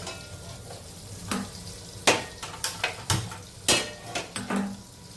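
A metal tava griddle is set down on a kitchen stove, giving several sharp clanks and knocks over a low background hiss, close and fairly loud.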